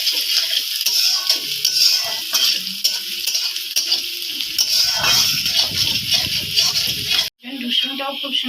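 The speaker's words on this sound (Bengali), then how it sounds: "রসুনটাকেও ভালো করে ভেজে নেব পেঁয়াজের সঙ্গে" Garlic paste frying with browned onion in an oiled pan, a steady sizzle broken by repeated scraping spatula strokes, close and loud, with a brief cut near the end.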